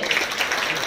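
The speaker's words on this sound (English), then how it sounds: "everyone needs to give him a massive round of applause" A short burst of dense applause after a speech, many hands clapping together, steady and moderately loud.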